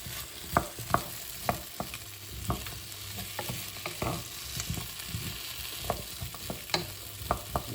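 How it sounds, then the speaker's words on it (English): Butter melting in a pan and being stirred, a continuous gentle sizzle under repeated light scrapes and taps of a utensil against the pan, close and without talk. "Put a bit more, a little tiny bit more butter in there. So give that a good stir. Make sure that's all melted down."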